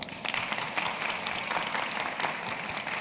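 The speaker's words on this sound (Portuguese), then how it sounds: "uma salva de palmas, gente" An audience at a maternity panel event applauds, a soft, even wash of many hands clapping together, distant and fairly faint throughout.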